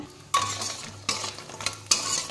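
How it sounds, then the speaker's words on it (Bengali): Lentil bori dumplings frying in hot oil in a wok sizzle steadily, with three sharp bursts of louder hissing and clatter as more are dropped in or stirred, close and without talk. "কড়াইয়ে তেল দিয়ে দিয়েছি, গরম হয়ে গেছে। এবার বড়িগুলো ভেজে নেব।"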